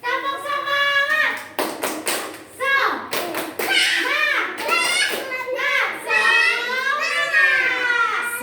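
A group of children does a spirit clap, chanting loudly in unison and punctuating the chant with sharp, rhythmic bursts of hand claps, close and lively.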